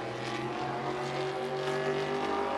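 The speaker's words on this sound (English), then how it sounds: "it's kind of noisy here at Berlin Raceway" Race cars at Berlin Raceway in Michigan, a steady, fairly distant engine drone with layered harmonic tones running continuously through the whole stretch with no voices.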